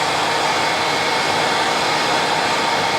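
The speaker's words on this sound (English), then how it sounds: "Now you could use the hairdryer" A hair dryer blows steadily and loudly throughout, drawing back the fibres of a long hackle on a caddis alder fly being tied, a constant broadband whoosh with no pauses.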